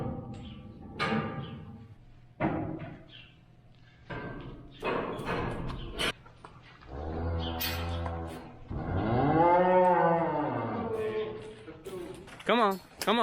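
Cattle heifers moo on a frigid, windy calving day, several drawn-out low calls rising and falling near the listener, mixed with thumps and people talking between them.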